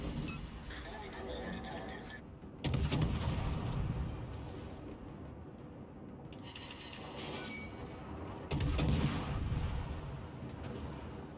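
Warship guns in the World of Warships naval battle game, including the Atlanta cruiser, fire in two heavy booming salvos several seconds apart. Lower rumbling and engine noise continue between them.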